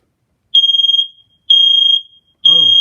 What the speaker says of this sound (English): it's just a smoke alarm